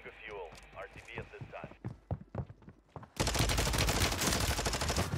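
Sustained rapid automatic fire from a VAZNEV 9K submachine gun in Warzone on Rebirth Island, a loud dense burst erupting midway after a stretch of talk and lighter game sounds.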